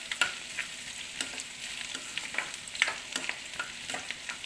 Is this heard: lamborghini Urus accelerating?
no